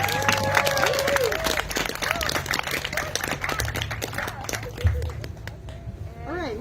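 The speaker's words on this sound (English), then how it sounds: "Let's give both Ted and Mike another round of applause." Audience applause at a campaign kick-off night of speeches and music, loud continuous clapping and some cheering, with musical tones and a voice heard over it near the start.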